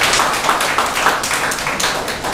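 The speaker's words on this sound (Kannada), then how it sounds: "ಅದರಲ್ಲಿ ಆಟ ಆಡಿದ ಉದ್ದೇಶಕ್ಕೆ ಒಂದು ಜೋರಾದ ಚಪ್ಪಾಳೆ ಬರಲಿ" Hospital staff at an anniversary celebration break into loud, sustained group clapping, a dense steady patter of many hands with no voices over it.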